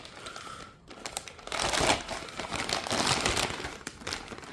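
Stiff plastic wrapping crinkles and crackles as it is peeled off a clean Mazworx SR20 VVL engine block, a near, continuous rustle with a brief lull before the louder crumpling begins.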